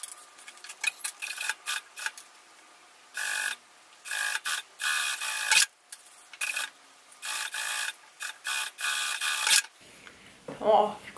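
Sewing machine stitching a bag lining to its gusset on a child's round crossbody bag, with repeated bursts of rapid mechanical whirring separated by short pauses, fairly close, ending with a brief different rustle.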